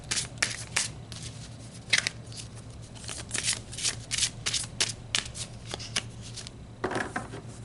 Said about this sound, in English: we're going to pull some more cards and expand on to this message